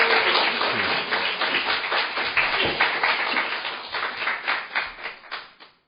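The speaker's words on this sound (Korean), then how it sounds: "자, 끝까지 박수를 쳐주시면 되겠습니다" Applause from party members at a political speech event carries on and then thins out, individual claps growing sparser and fading away to near silence by the end.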